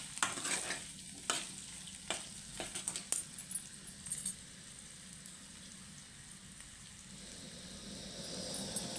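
Potato fry being stirred in a pan, sizzling faintly and steadily, with a few sharp clinks and scrapes of a utensil against the pan in the first few seconds, then quiet frying alone.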